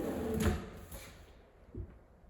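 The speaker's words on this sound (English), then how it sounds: "Now these are all soft closed doors, soft closed drawers as well." A soft-close kitchen drawer or cabinet door in a newly fitted flat-pack kitchen, a muted thud and brief slide followed by a gentle settling knock, quiet and close, with no talk.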